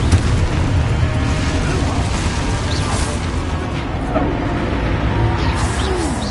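Spells are cast in the Hogwarts video game, including a Confringo blast, heard as a loud, dense rumble of bursts and whooshing effects with a steady roar throughout.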